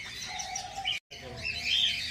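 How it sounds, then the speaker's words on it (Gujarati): Small birds such as sparrows chirp and tweet repeatedly at the Vadodara zoo, bright overlapping calls at moderate distance with a brief silent gap in the middle. "ખૂબ સરસ મજાના પક્ષી જોવા મળી રહ્યા છે."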